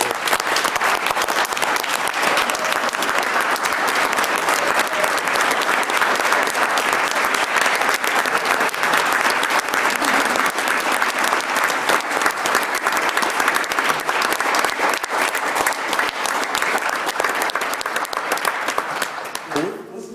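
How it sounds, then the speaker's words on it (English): A room full of people at a board of education meeting applauds at length, with dense, loud, sustained clapping that holds steady before tapering off near the end. "I think we should give her a round of applause"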